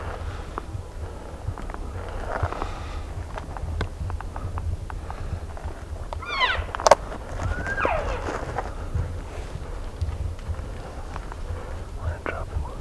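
Several elk calling during a Colorado hunt, faint high squealing bugles and chirps rising around the middle amid quiet rustling, with soft whispered voices.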